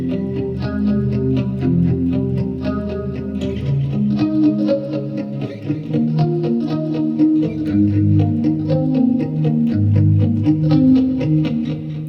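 An instrument played through a delay effect with reverb sounds as a continuous, loud wash of layered sustained tones with echoing repeats trailing each note, steady throughout with no talking.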